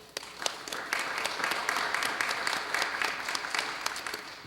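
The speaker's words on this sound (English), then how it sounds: "Let's applaud their efforts." School board meeting audience applauding the high school basketball teams, a dense, even roll of many hands clapping that swells quickly and holds steady, fairly close, with a few individual claps standing out.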